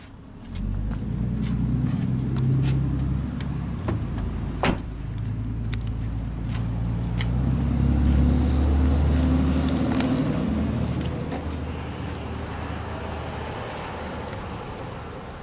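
A 2005 Chrysler Crossfire Limited Roadster running through its dual exhausts, a steady low engine rumble that swells briefly midway, close by with a few sharp clicks and no talking.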